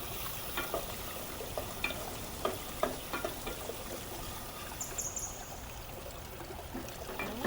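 Green chilies stirred and fried in spiced oil in a pan, a continuous soft sizzle broken by scattered scraping clicks of a spoon, close and steady throughout with no talking.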